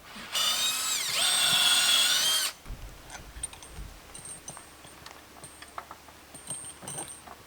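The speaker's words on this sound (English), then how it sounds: "I'm just drilling it through this tree" A power drill bores through a living tree trunk to take an eight-inch by half-inch eye bolt: a loud, close, steady whine lasting about two seconds, then stopping, followed by faint knocks and rustling.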